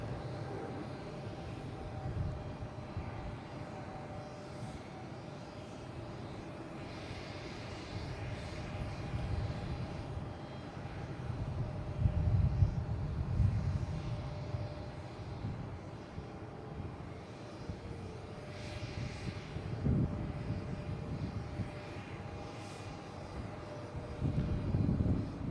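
A JetBlue jet airliner climbs out after takeoff from Boston Logan International Airport, its engine roar a steady broad rumble that swells and fades over about 25 seconds, with no voices present.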